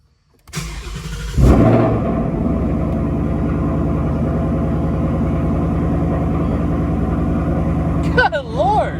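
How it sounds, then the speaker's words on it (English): A Ford Mustang GT S550 fitted with a Raceseng Slammer big bore part fires up from cold: a sharp catch and roar, then a loud, steady high idle that holds close to the microphone, with people talking briefly over it. "Oh, cold start."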